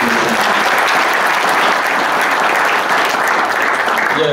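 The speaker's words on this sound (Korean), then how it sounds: "다시 한번 큰 축하의 박수 부탁드립니다." Steady, loud congratulatory applause from the assembled members greets the newly elected president at a general assembly for unifying tennis organizations, a dense, even wash of clapping that holds for the whole stretch with no voices.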